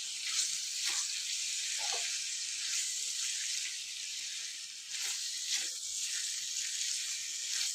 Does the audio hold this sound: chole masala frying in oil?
yes